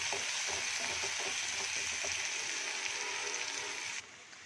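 Onions sizzle and fry steadily in an oiled pan for a Tamil-style okra (bhindi) roast, with soft scraping stirs near the start; the hiss runs close and constant, then drops sharply just before the end.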